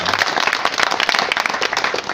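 Audience applause in a hall at a district-level bench press competition, dense steady clapping from a crowd filling the whole stretch at close range, with a faint voice briefly underneath at the start.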